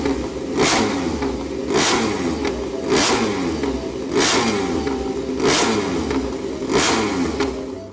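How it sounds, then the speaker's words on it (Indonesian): A MotoGP toy motorcycle revs steadily, its engine sound climbing and falling in repeated cycles of roughly one and a quarter seconds, loud and close, with no talk over it. "Di sini ada motor GP."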